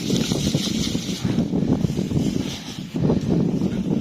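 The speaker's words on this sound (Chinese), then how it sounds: "山东这边这个风是真大" Strong wind gusts across an open outdoor vegetable plot in Shandong, buffeting the microphone with rumbling, uneven surges that rise and fall over a few seconds.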